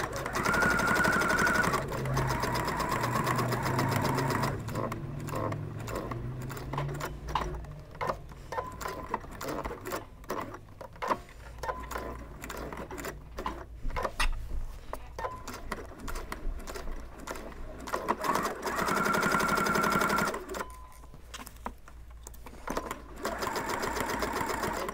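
Sewing machine stitching a ukulele or guitar strap, running in close, steady mechanical bursts of rapid needle clatter, pausing and restarting several times, with brief hums and clicks between runs and a little quiet speech.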